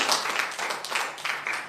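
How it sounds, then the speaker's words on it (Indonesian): Church congregation clapping for Jesus, a short burst of scattered hand claps from a small crowd, fairly close and moderately loud. "Yang setuju tepuk tangan bagi Tuhan Yesus."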